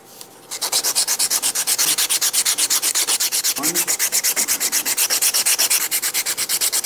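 Rhythmic back-and-forth sanding of the sides of a wooden helicopter whirligig, a close, loud, steady rasp of quick even strokes with no talk.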